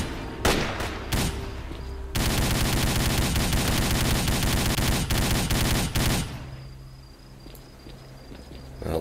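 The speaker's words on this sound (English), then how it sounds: "What are they firing at?" Rapid gunfire in the S.T.A.L.K.E.R. video game, sustained bursts of automatic weapon fire lasting several seconds, preceded by a few isolated shots and fading into ambient insect-like chirping.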